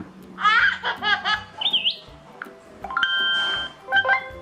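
A phone plays short previews of Messenger notification sounds one after another. They are chirpy, bright electronic tones and brief melodic blips, with quiet gaps between each one.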